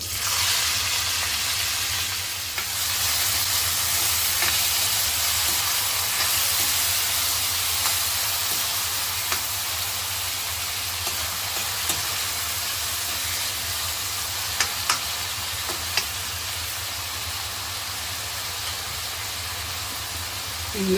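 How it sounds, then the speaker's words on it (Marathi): Onion dropped into hot oil with cumin seeds for a tempering, giving a steady loud sizzle and hiss with scattered small crackles, close and continuous throughout with no talk. "कांदा घालूया जिरं तडतडले"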